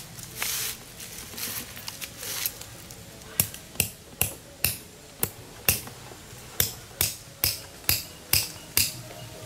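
Pins anchoring a bird trap are driven in with a hammer: about a dozen sharp, evenly paced strikes, close and distinct, after a quieter stretch of rustling handling.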